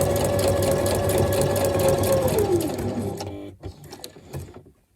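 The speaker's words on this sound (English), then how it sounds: "I have brown thread in top and bottom, and I'm just doing a straight stitch for now." Sewing machine running a straight stitch with brown thread in the top and bottom while making transparent junk journal pockets; a steady, loud mechanical whir for about three seconds, then slowing and stopping, with a few soft clicks afterward.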